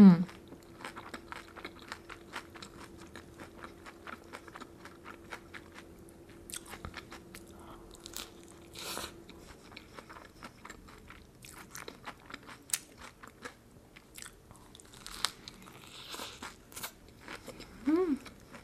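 Someone bites into homemade Doritos tacos, giving close, crisp crunches and chewing in irregular bursts with quiet pauses between and a low background hum in the first half, with no talk.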